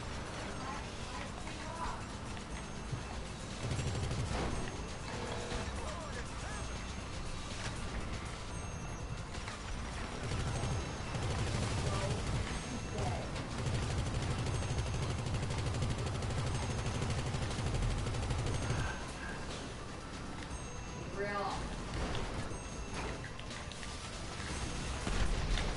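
Gunfire in GTA Online rattles through a dense, continuous game soundscape, with bursts of shots and mechanical clatter over steady background noise.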